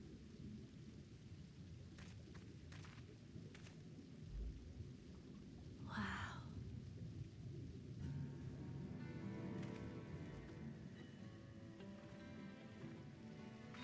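Steady rainfall with a low rolling rumble of thunder and a brief crackling burst near the middle, set in the Final Fantasy XIV game world, continuous and fairly quiet with no talking.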